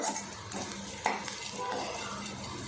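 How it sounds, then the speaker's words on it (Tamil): Curry leaves for a chutney tempering crackle and fry in hot oil, making a close, continuous sizzle with a single spoon clink on the pan partway through. "ஒரு ஒத்து கருவேப்பிலையும் இதில் சேர்த்திடுவோம் பச்சையாகவும் இல்லாமல் ரொம்ப கருக்களும் இல்லாமல் எந்த அளவுக்கு முறுமுறுப்பாக வதக்கியிருக்கேன் பாருங்கள்"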